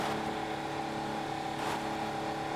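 A 4x4 off-road vehicle's engine drones steadily in GTA V while climbing Mount Chiliad, a continuous, moderately loud tonal hum with a slight rise in revs partway through.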